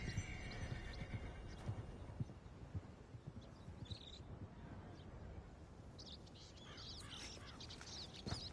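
Horse hooves clip-clopping at a steady walking rhythm in the Red Dead Redemption 2 video game, fairly faint, with scattered bird calls and a brief whinny-like sound over soft outdoor ambience.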